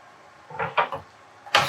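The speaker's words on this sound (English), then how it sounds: "So what I like to do is I will add the potatoes" Potatoes dropped into a pan of melted butter while making shrimp and corn chowder, a few soft close thumps followed by one louder clunk, with no talking.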